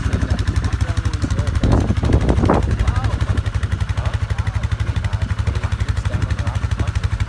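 A Kawasaki Bayou KLF400 2WD ATV engine putters with a fast, even pulse during gear shifts. A brief rise in revs lands mid-stretch, wind buffets the scene, and voices are heard.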